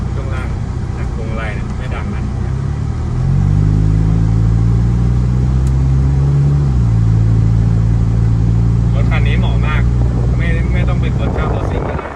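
Honda Civic 3-door hatchback engine running steadily, with a rise in tone as it pulls away and a clear shift mid-way before settling again; someone talks over the engine throughout.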